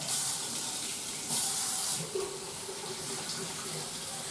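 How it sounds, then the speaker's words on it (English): Hot water from a kitchen tap runs steadily into a sink over freshly harvested basil, a continuous close hiss of flowing water with no speech over it. "I'll just turn the hot tap on and just run the water underneath here just for a few seconds"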